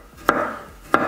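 Two crisp knife chops through garlic cloves on a cutting board, each a sharp thud followed by a short ringing tail, about two-thirds of a second apart.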